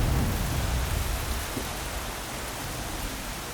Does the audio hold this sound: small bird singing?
no